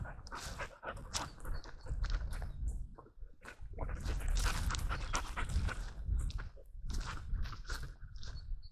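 A three-year-old female boxer and German shepherd mix pants heavily and rhythmically on a hilly walk, close and loud, with brief pauses and faint movement noises.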